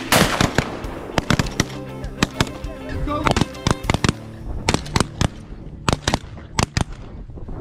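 Shotguns from waterfowl hunters firing at mallards and geese over an Alberta pothole: a rapid, irregular volley of loud, sharp shots over steady outdoor background noise, with faint bird calls mixed in.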